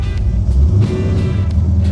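A 1951 Ford Custom or 1956 Chevy Bel Air, warmed up after a road test, idles steadily and loud at close range with a low rumbling drone, and no talk over it.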